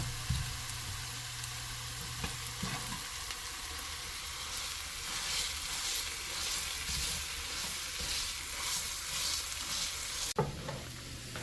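Garlic sizzles in hot oil in a pan, a steady bright frying hiss with occasional stirring scrapes, close and continuous with no talking.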